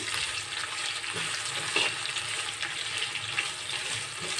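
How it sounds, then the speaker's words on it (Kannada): Coriander leaves and green chillies sautéing in a pan for hotel-style uppittu made from idli rava, a steady close sizzle and frying hiss with occasional stirring scrapes, no talk. "ಇದು ಮತ್ತೊಮ್ಮೆ ಈ ಥರ ಬಾಡಿಸ್ಕೋಬೇಕು."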